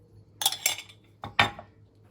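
Tahini bread batter for a keto loaf being stirred in a bowl with a utensil, giving four or five short scraping clinks in two quick pairs, close and moderately loud over a quiet background.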